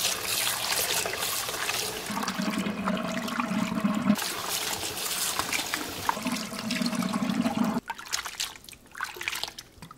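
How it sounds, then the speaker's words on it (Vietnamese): Running tap water rinsing salted white radish, a steady splashing flow with louder surges as the pieces are washed repeatedly, then the stream cuts off abruptly near the end, leaving quieter trickling. "Mình xả nước và rửa nhiều lần để củ cải thực sự hết mặn nhé."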